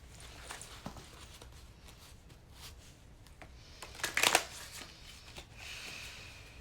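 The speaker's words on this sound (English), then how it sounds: "Let's shuffle this one up." A Rider-Waite tarot deck is shuffled softly and repeatedly, with light riffling and a louder flurry near the end, quiet and close.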